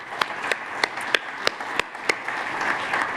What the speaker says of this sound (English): A big round of applause for Chandra also.